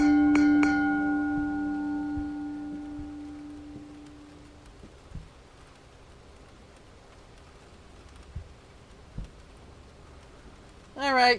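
Bells ringing in the video game Ten Bells, a few clear metallic chimes at the start that ring out and slowly decay into quiet, rain-like ambience with faint scattered knocks.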